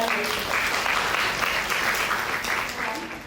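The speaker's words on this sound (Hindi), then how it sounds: "एक बार जोरदार तालियों से उनको" Loud, sustained applause from a large crowd at an official meeting with women village heads in Ranchi, a dense steady roar of clapping that tapers slightly at the end.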